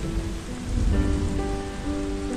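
Steady rain pours down and patters on surfaces, an even close wash of droplets with a faint low rumble beneath, no voices.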